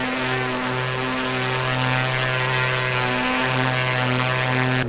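Steady, loud drone of the A2A Aerostar's piston engines in MSFS 2024 at reduced throttle during a right turn, full rich mixture, a continuous even hum with no talk.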